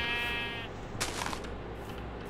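A Minecraft sheep gives a short, nasal bleat, followed by a sharper, brighter bleat-like burst against a steady game background hum, with no talking over it.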